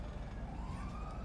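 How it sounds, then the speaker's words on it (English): A video game police siren wails, sweeping steadily upward, moderately loud, with a busy rumbling background beneath it. "I hear sirens."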